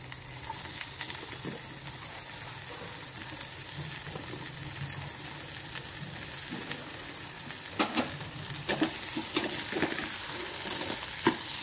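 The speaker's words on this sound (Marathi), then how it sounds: "आता गवार देखील फोडणीमध्ये ॲड करून घेऊया" Low, steady sizzling and hiss of cluster beans frying in a spice tempering with ginger-garlic paste in a pan, with a few sharp stirring clinks toward the end, close by with no talk.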